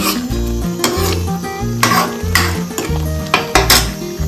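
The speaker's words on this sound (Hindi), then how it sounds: "तो भून लेते हैं मसालों को बढ़िया तरीके से, हम लोग अब भून लेते हैं।" Spices roast in a pan for shahi paneer, heard mostly as a spoon repeatedly scraping and clinking against the metal pan in an uneven rhythm under a faint sizzle and background music, close and loud.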